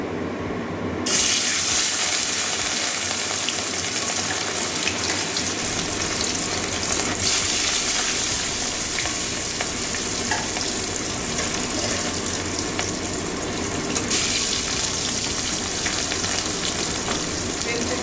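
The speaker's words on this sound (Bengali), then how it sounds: "তেল গরম হয়ে গেছে, এবারে মাছটা ভেজে নেব।" Katla fish fries in smoking-hot oil with a loud, steady sizzle that holds for the whole stretch, swelling briefly as the pieces settle in the pan; no one speaks.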